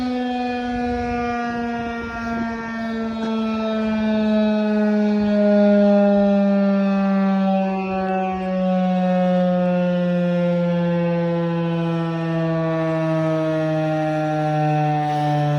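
A Federal Signal 2001 civil defense siren on test, holding a loud, steady rising-and-falling wail with a slow pitch drift across the whole stretch, heard alone with no voices.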